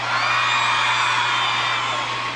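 A group of women in a Peruvian comedy show audience let out a loud, sustained collective shriek and whoop, a dense steady wall of high voices lasting the whole moment.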